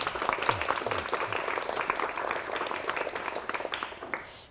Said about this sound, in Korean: 임효재 교수님을 박수로 맞이해 주시면 대단히 고맙겠습니다